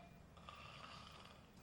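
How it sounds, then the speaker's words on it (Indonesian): A sleeping person snores in a soft, steady rasp, faint and muffled against a continuous background hiss, with no talking. "nih anak bukannya olahraga malah ngorok"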